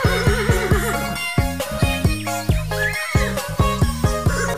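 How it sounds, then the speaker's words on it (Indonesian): Pony mare neighing among horses, bright repeated whinnies layered with a steady musical backing and faint jingling, loud and close throughout. "kuda poni."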